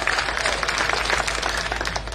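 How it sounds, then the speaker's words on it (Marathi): Audience clapping breaks out at a political speech about farmers and free electricity: a steady, dense patter of many hands, moderately near and filling the space, with no voice over it. "टाळ्या वाजवणाऱ्यांनी"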